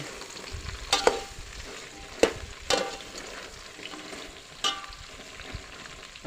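Okra frying in oil with cumin and mustard seeds makes a soft, steady sizzle, with a few sharp clinks and scrapes of stirring near the pan and no talking.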